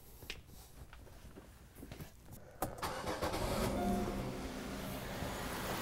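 A car engine cranks and catches ahead of a cylinder power balance test: a few faint clicks and taps, then a sharp start followed by a steady, rising idle hum that holds to the end.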